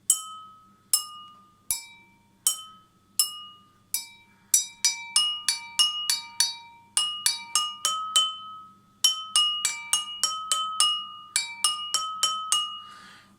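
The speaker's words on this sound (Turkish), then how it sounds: "Bakın bardaklardan çıkan sesler birbirinden farklı." Drinking glasses filled with different amounts of water are struck one at a time, ringing out clear bright tones of varying pitch in a melodic sequence, each chime decaying quickly, with quicker runs of notes in the second half.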